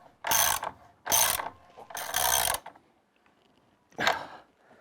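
A ratchet tightens a fastener during sill plate replacement over a basement bulkhead opening: three loud, close bursts of rapid clicking, a pause, then one more short burst, with no voices.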